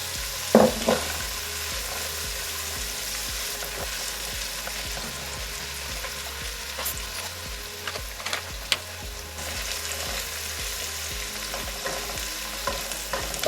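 Onions caramelizing in a pot for Jamaican curried shrimp give off a constant sizzle and crackle, broken by occasional stirring scrapes. The sound is close, with no voices.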